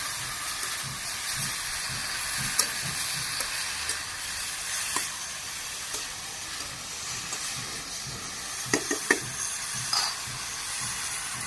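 Malabar spinach and raw onion frying in a pan, giving a steady close sizzle and hiss with a few brief clinks and stirring scrapes and no talk.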